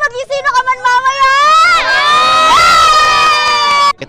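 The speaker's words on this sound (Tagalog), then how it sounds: "sobrang dami pong tao na nanonood ngayon" A large crowd of spectators at a TV taping cheers and shouts loudly, a sustained, rising roar of voices that cuts off abruptly near the end.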